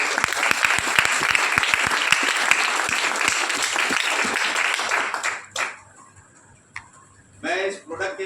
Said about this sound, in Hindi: एक जोरदार तालियों के साथ मैं चाहूँगा कि आप स्वागत